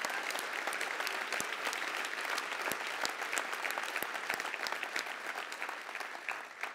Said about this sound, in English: can we give like an amazing round of applause for President Tim Foster